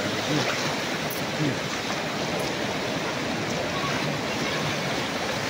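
Muddy floodwater from the mountain rushes down the Caños River floodway in Digos City, Davao del Sur, a steady loud roar of churning water that stays constant throughout.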